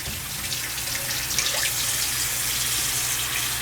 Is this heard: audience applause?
no